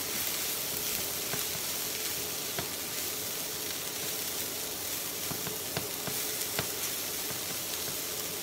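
Cauliflower rice tossed with curry powder and methi in a hot pan, giving a steady soft sizzle with faint scraping and stirring clicks throughout, no voices.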